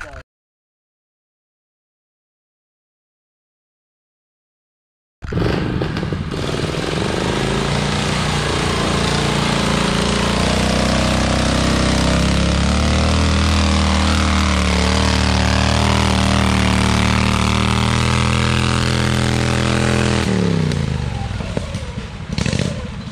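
A mud mower engine roars loudly and steadily after about five seconds of silence, a harsh, rattling, motorcycle-like drone that holds for roughly fifteen seconds, then eases slightly near the end.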